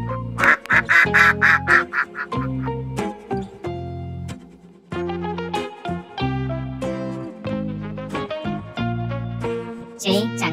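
Repeated duck quacks sound over a bouncy musical backing, the calls coming in short rhythmic bursts with no talking.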